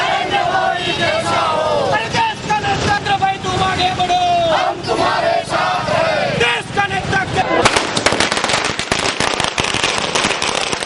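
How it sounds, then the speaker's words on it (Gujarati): Firecrackers and fireworks set off by the district BJP in Palanpur to celebrate Narendra Modi's selection. Dense crackling bursts run throughout, growing into rapid sharp pops near the end, with crowd noise underneath. "આજે સાંજે પાલનપુર ખાતે જિલ્લા ભાજપ દ્વારા મુખ્યમંત્રી નરેન્દ્રભાઈ મોદીની વરણીની ખુશાલીમાં આતશબાજી કરી આનંદ મનાવવામાં આવ્યો હતો"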